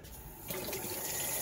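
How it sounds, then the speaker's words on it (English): Tap water begins running into a kitchen sink partway through, a steady close rush used to wash food for tortas de espaldilla under the stream. "I'm gonna wash this right now, right here in the sink."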